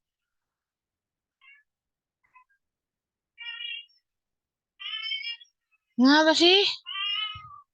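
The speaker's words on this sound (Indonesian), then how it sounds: "Kamu dengar nggak suara kucing aku ngeong-ngeong?" A cat meows several times, soft at first and growing louder, with one short spoken remark among the calls.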